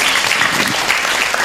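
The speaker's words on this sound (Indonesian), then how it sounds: "Tepuk tangan dulu." An audience at an Islamic sermon applauding steadily and fairly loudly, dense overlapping claps with no pauses.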